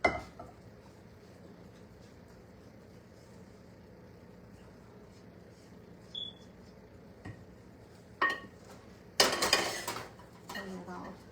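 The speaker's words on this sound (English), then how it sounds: "Then I'll toss my spaghetti." Spaghetti tossed in a heavy bowl gives a few short clinks and scrapes of utensils against the dish, with a brief loud burst of clattering near the end over a quiet kitchen background.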